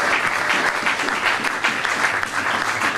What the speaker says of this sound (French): est-ce que quelqu'un peut acclamer pour Jésus?